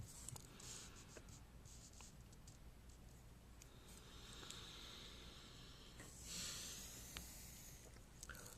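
A pen or pencil scratches out a math equation on paper in quiet, close strokes, with brief pauses and light taps between the scribbled characters.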